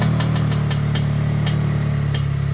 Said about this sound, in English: there's a really bad creaking sound that's coming on the passenger wheel